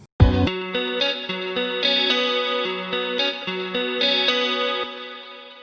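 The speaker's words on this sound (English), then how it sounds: "I'm adding Echo Boy, and I have an 8th note dotted and a 16th note" Clean electric guitar picks out a repeating melodic pattern of bright notes through an Echo Boy delay set to dotted eighth and sixteenth note repeats at a moderate mix. Slappy echoes bounce back and forth between the plucks with no voices present.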